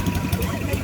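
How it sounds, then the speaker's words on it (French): Big boat engines pushing a small vessel near a mangrove shore, a steady low rumbling drone close by, brief and continuous. "C'est des gros moteurs qui nous poussent."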